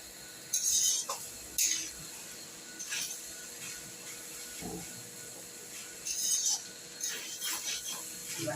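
A utensil scraping and clinking against a cooking pan as ingredients are stirred up and down at home, several short metallic strokes spaced out over a quiet background.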